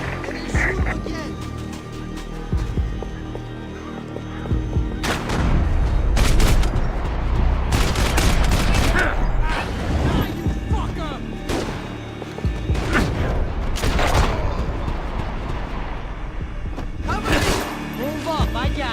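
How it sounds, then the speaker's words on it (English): Gunshots in Max Payne 3, heavy booming bursts and rapid sharp reports from a close firefight, mixed with game voices shouting over the action. "Shoot him again."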